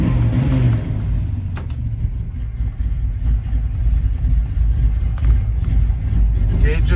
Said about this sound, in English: let's fire her up real quick first. Oh yeah, great dual exhaust.